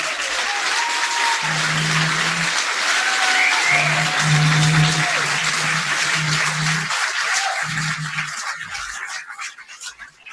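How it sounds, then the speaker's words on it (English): Sustained audience applause at a ball fills the room, dense and steady, with a few tones and faint voices mixed in before the clapping thins out toward the end. "You can give them a better round of applause, a better thank you than that"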